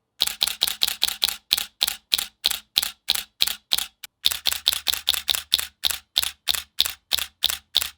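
Canon T5i and T4i DSLR cameras fire their shutters in bursts at about five frames per second, crisp mechanical clacks in two rapid rhythmic runs separated by a brief pause, close and clear with no talk.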